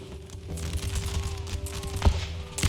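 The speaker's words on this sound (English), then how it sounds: "The counter volley." A musket counter volley in the Empire: Total War battle game, a crackling spread of shots and pops over low battlefield rumble, with a sharper crack near the end.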